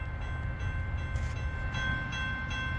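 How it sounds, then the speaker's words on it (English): An Amtrak passenger train rolling by on the tracks at milepost 309, Brutus, New York, makes a continuous heavy rumble with faint wheel clatter, moderately close and without pause. "I believe it's an Amtrak."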